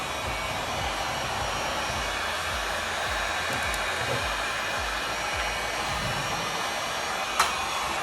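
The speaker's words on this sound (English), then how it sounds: "heat gun, and I'm gonna just blast it" Heat gun blasting a candle container, a steady loud blowing roar with a whining motor hum held without a break from start to finish.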